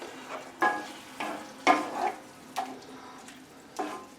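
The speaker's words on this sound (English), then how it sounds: "Now, add in your tomatoes. Stir them all around, get it all mixed together." A spoon stirs tomatoes through a pan of sauce, giving several distinct scraping, clattering strokes at an uneven rhythm over a soft background sizzle, close and fairly quiet.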